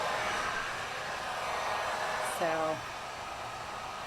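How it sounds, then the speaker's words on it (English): A Wagner heat gun blows hot air in a steady, close broadband rush that runs unbroken throughout, with a single brief spoken word partway through. "This is a heat gun by Wagner."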